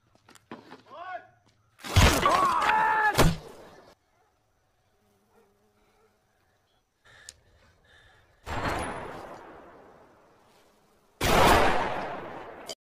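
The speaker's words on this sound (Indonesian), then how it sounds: "Dia berhasil merebut senjata dan menembak orang-orang di sana." Gunfire in a film comes as a few loud, harsh bursts with short decaying tails, separated by near-silent gaps. Faint sounds come before the first burst.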